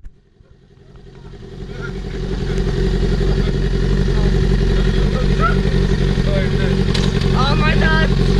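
Motorcycle carrying three riders rolling through a McDonald's drive-thru, its engine rising from quiet to a steady loud rumble, with voices and chatter heard over the motor.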